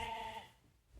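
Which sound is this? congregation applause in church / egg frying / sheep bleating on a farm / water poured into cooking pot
sheep bleating on a farm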